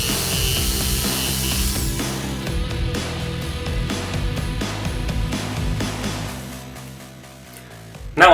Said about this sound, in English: Here I'm cutting out some notches so that this soffit trim will fit around the corner trim.